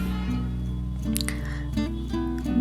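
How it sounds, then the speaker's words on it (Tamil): Water splashes and drips into a pan of chayote stir-fry, a wet, uneven pour heard over a steady humming background. "இப்போ இந்த ஸ்டேஜில் தண்ணி ஊற்றிக்கலாங்க"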